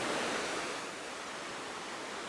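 Sojeongbang waterfall in Jeju, South Korea pours in a dense, steady broadband roar, heard up close with no voices over it.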